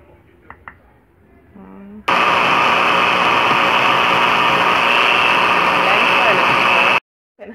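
After a few seconds of quiet speech, a countertop blender whirring a protein shake roars in at full volume, a loud steady high-pitched grind that holds for about five seconds and then cuts off abruptly.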